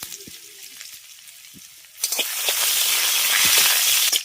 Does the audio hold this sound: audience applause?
no